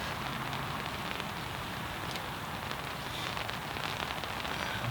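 Winter rain falls outdoors at a tench fishing spot, a dense, steady patter on surfaces nearby, constant and even with no talking.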